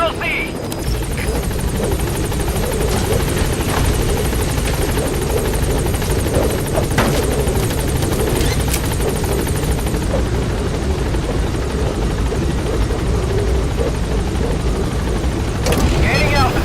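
Pequod, the helicopter in the video game Metal Gear Solid V, drones with a steady rotor thrum while hovering at a landing zone, a continuous loud beat filling the whole stretch.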